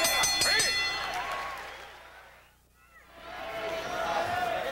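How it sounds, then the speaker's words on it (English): A boxing crowd cheers and applauds a flurry of punches, a loud burst that fades to near quiet before building again, with an announcer talking over it. "Crowd loving that flurry"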